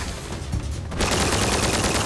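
Gunfire in the zombie platform shooter Zombotron: a brief quieter stretch gives way to a loud, dense burst of rapid shots that continues to the end.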